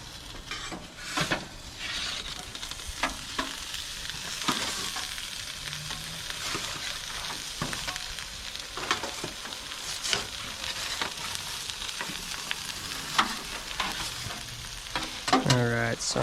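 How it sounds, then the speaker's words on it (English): Oil sizzles and crackles steadily in an Ooni Koda 16 pizza oven while a Detroit-style pizza cooks, a continuous near frying hiss with scattered pops and scrapes, no talking. "So that's just, you know, the oil burning."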